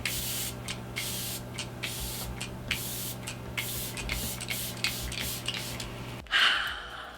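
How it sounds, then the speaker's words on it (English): Glow Recipe Watermelon Ultra Fine Face Mist sprayed from a pump mister, a long run of quick airy hissing bursts in fast rhythm, close and fairly loud, ending with a brief breathy exhale. "I'm also going to take just a little bit of the Glow Recipe Watermelon Ultra Fine Face Mist"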